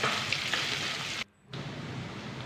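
Ginger-garlic paste and whole spices fry and sizzle in hot oil while being stirred, a close, steady hiss broken by a brief moment of near silence.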